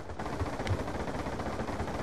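Machine gun fire rattles in a Black Ops 2 match, a dense, continuous burst of rapid shots for about two seconds, loud and close.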